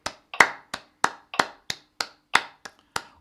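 Hand claps in a steady triplet rhythm during a musical warm-up, about ten sharp, close claps evenly spaced with a few softer ones mixed in, no voice.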